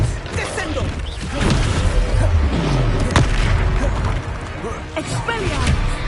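A heavy booming impact from the Descendo spell in Hogwarts Legacy, heard among game combat effects with whooshes and thuds, loud and close, with character voices and spell chatter around it.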